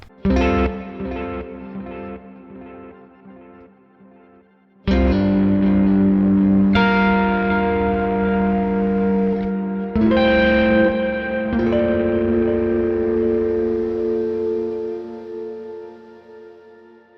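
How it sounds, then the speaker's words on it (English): Sustained electric guitar chords through the Neural DSP Archetype: Rabea plugin, drenched in reverb and echo, swelling into a smooth, organ-like tone with long ringing tails, loud and alone. "I love the little organy type of effect at the end."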